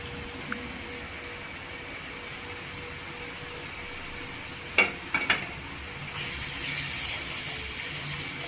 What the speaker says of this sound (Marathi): इथे पूर्णपणे तेलावर परतून मसाला घेतलेला आहे।